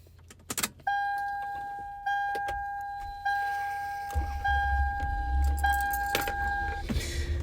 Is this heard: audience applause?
no